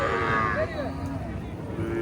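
An eight-month-old native heifer calf at a busy cattle market gives a drawn-out moo, close by, over crowd noise and people talking.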